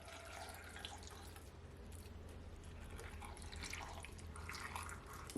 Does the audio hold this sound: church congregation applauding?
no